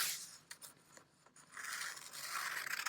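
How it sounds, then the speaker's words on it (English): Scissors snip through paper, cutting out traced hand shapes, in a few quiet close cuts followed by a longer, denser stretch of slicing. "But now we'll cut our hands out."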